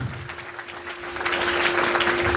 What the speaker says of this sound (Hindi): एक बार जोरदार ताली इनके स्वागत में।